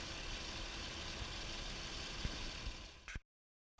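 A Volkswagen Touareg engine idles close by with a steady hum for a few seconds, then cuts off abruptly into silence before a brief return.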